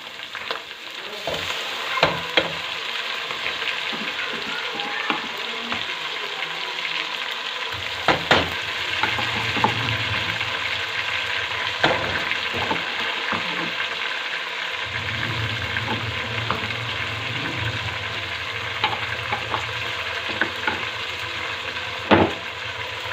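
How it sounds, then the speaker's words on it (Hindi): Tomatoes sizzling and frying with potatoes and peas in a home kitchen pan, a steady loud hiss throughout with occasional stirring scrapes and clinks, no talking. "अब इसके साथ हम टमाटर ऐड करेंगे और इसको अच्छी तरह भूनेंगे।"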